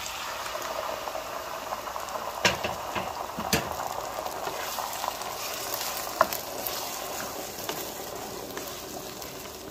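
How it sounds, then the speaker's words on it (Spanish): Beans hitting hot oil with softened onion in a frying pan, a steady soft sizzle and bubbling with a few sharper crackles and spatters, heard close up and fairly quiet, with no talk. "Ya voy a agregar los frijoles."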